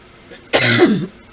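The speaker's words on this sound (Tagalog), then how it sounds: "Sorry po sa mga ubo ko." A single harsh cough, loud and close, rising out of near silence and tailing off after about half a second.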